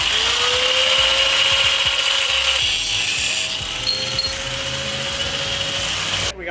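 An angle grinder cuts through a metal BMX tube indoors with a loud, steady, high whine and grinding hiss that shifts slightly in pitch partway through before cutting off at the end.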